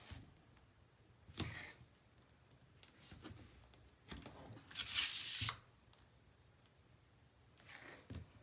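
Tape strips being torn for a Ciao Bella Winter Journey mini album, several short sharp rips spaced a second or two apart over a quiet room hum, with no talking.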